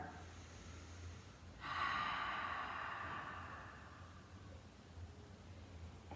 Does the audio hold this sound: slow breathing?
yes